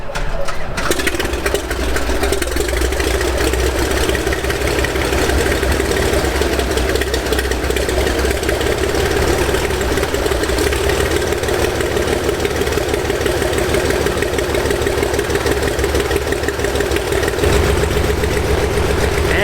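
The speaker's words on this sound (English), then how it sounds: "Listen to that big old horizontally opposed 6. 520 cubic inches of fury." A 1972 Bellanca Super Viking's big 520-cubic-inch horizontally opposed six-cylinder aircraft engine runs up loud and close, a steady, throbbing roar held for the whole stretch with no talk over it.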